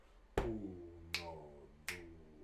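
Three sharp, quiet chest slaps from Brazilian batuque na mão body percussion, struck alone at an uneven rhythm, each a crisp close hit with a short ringing decay.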